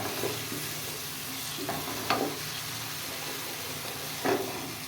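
Spinach and green chilli being stir-fried with masala in a pan: a steady low sizzle with a few soft scraping stirs of the spoon, close and moderately quiet, with no talking.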